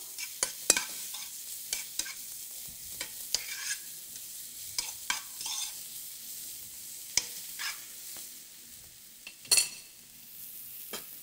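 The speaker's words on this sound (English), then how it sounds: "So we're gonna cook our onion until it's soft." Onion softening in a hot pan, with gentle sizzling and repeated stirring scrapes and clinks of a utensil against the pan, close and fairly quiet, with no talk.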